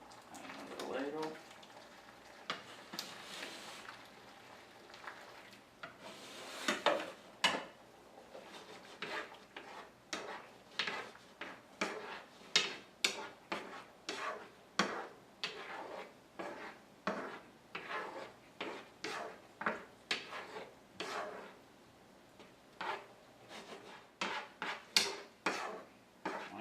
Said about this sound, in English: you really just kind of want to keep it moving, shaking the pan, giving it a stir